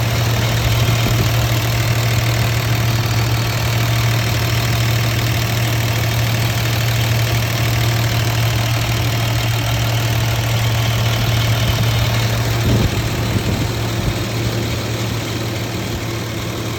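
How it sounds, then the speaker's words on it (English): A 1988 Toyota Land Cruiser FJ62 idles with its AC compressor running, making a steady, loud low hum and mechanical drone that holds evenly throughout, with a faint brief clatter near the end and no talking. "There, the AC compressor just kicked on."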